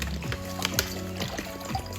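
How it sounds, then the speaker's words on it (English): Water from bottles pours into a stainless steel pot, a close continuous splashing trickle over a steady low hum. "So we're gonna pour the water in there."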